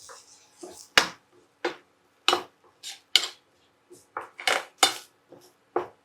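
Turmeric mixed into vegetables with a spoon, giving sharp, separate metallic clinks and scrapes against a vessel, close up, about ten strikes in six seconds with quiet gaps between them.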